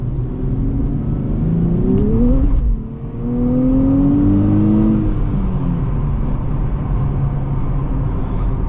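A 2024 Nissan Z with a 6-speed manual gearbox accelerates hard, its engine note rising, then briefly dipping at a gear change before climbing again in a loud, close-up cabin drone with no talking.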